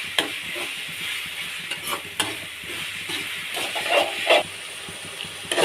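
Onion, tomato, ginger and garlic sauté in oil for a prawn gravy, with a steady sizzle and hiss broken by repeated scraping stirs of a spoon against the pan.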